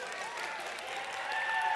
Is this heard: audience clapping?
yes